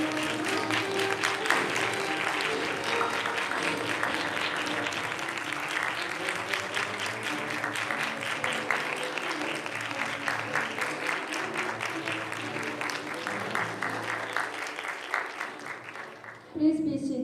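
A large audience at a student English-speaking contest gives sustained warm applause, a dense even roar of clapping that fills the room for the whole stretch and stops abruptly near the end, with a voice briefly over it.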